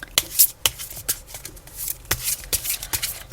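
Tarot cards being shuffled and drawn by hand, a quick series of crisp papery riffles and flicks close by, irregular bursts with short pauses between them and no speech.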